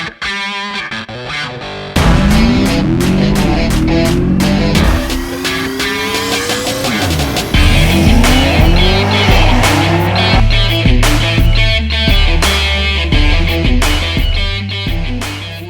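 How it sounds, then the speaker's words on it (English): A loud, roaring Camaro engine revs hard with screeching tires in a burnout, the noise climbing and holding steady over several seconds. "maybe, just maybe, we're going to do a little burnout"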